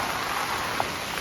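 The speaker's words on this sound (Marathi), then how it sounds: "एक नंबर आणि मुसळधार पाऊस पण आहे" Heavy monsoon downpour at Malangad, a dense steady hiss of rain with no voices, continuous and fairly loud throughout.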